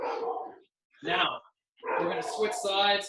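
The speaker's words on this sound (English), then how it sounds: "that's my dog going nuts at something if you can hear him" A dog barks at something in a home during an indoor martial arts throwing workout, several loud barks mixed with someone speaking over them.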